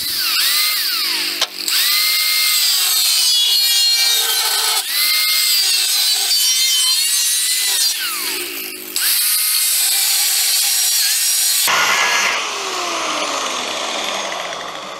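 A power tool cuts through thin Citroën 2CV chassis sheet metal at the spot welds, with loud, shrill, whining grinding in sustained bursts, brief pauses between passes and a changing pitch as the blade bites, no speech.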